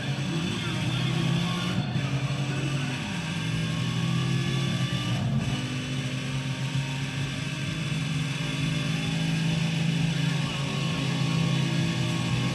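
Racing car engines in a video game played with a PS3 controller on a PC, a continuous droning engine whine with pitch shifts, heard under someone talking.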